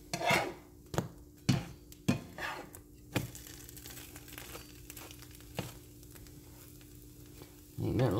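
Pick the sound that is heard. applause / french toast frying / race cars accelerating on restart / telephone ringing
french toast frying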